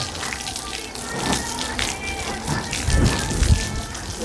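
Water sprayed across a home terrace near a mango tree, a broad wet hissing wash that swells and splashes louder toward the end, with voices faintly present.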